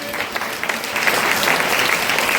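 A church congregation breaks into applause after a healing prayer, a dense wash of many hands clapping that starts moderately and swells louder after the first second, continuing steadily.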